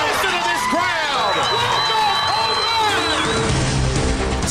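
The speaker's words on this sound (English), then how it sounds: "Listen to this crowd." A high school baseball crowd cheers loudly and continuously after a home run, with excited shouting and whistles throughout. A broadcast announcer's voice runs under the noise.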